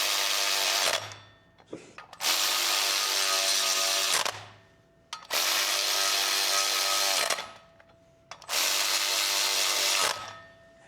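An electric ratchet snugs bolts in a crisscross pattern, whirring in four loud bursts of about two seconds each, separated by short pauses, close up with no talking.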